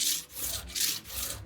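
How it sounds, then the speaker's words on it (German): Hand planing a wooden frame rail with a toothing plane, giving about three rough rasping strokes in quick succession, close and fairly quiet. "man geht her und hobelt das einmal mit dem Zaunhobel aus"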